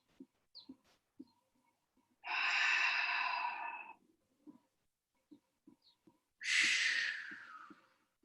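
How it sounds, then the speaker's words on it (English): Two long, audible breaths out during a guided mindful movement meditation, each a soft airy rush lasting a second or two, close and separated by quiet gaps with faint clicks. "on your exhale, let it be an audible exhale"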